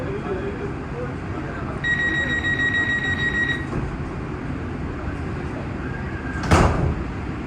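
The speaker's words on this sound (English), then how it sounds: "Please stand clear. The doors are closing." Sliding doors on a Los Angeles Metro train close with a steady two-tone chime followed by a sharp thud as the doors shut, over constant rumbling rail noise inside the car.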